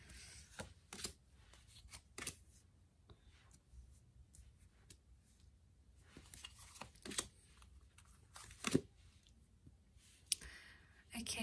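Tarot cards are shuffled and handled at close range, with irregular quiet riffles, slaps and clicks spread over several seconds and a soft voice speaking at times in between.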